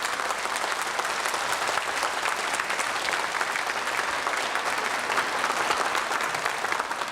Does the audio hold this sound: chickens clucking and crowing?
no